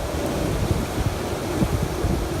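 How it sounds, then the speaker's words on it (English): Strong hurricane wind from Hurricane Irma in Miami roars steadily and loudly with gusty low rumble, heard from a third-floor parking garage with trees thrashing nearby. "The wind is blowing so intensely. It's coming in so hard."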